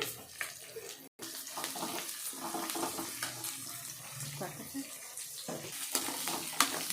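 Garlic and curry leaves fry in hot oil with chopped onion, giving a steady, close crackling sizzle that runs throughout with one brief dropout near the start.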